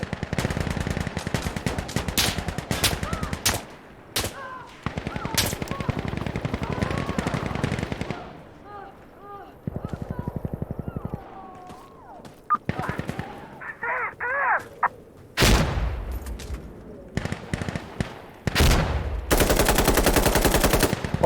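Rapid automatic gunfire from the tactical shooter game Insurgency: Sandstorm comes in loud, dense bursts separated by short gaps, with a player talking over parts of the action.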